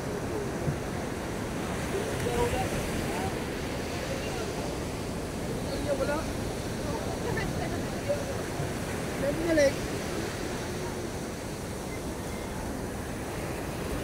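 Steady ocean surf washes and splashes continuously along a fishing shore, a dense rushing roar with small bursts of spray, loud and close throughout.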